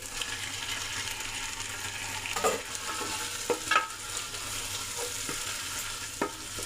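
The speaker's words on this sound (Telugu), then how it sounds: "అల్లం వెల్లుల్లి పేస్ట్ కూడా పసన పోయేంత వరకు కాసేపు ఆయిల్లో ఇలాగే వేగనిస్తే మంచి స్మెల్ వస్తుంది" Ginger garlic paste fries in hot oil for a prawn biryani: a steady, soft sizzle runs throughout, broken by occasional light scrapes and taps of a spoon stirring the pan. No one speaks.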